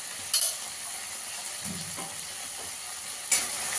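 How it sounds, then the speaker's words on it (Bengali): Cumin, coriander, turmeric and Kashmiri chilli powders frying with ginger-garlic paste in a pan, a steady low sizzle with a few soft stirring scrapes and two brief louder clatters. "ভালো করে এটা কষিয়ে নেবো যতক্ষণ না আদা রসুনের কাঁচা গন্ধ যাচ্ছে"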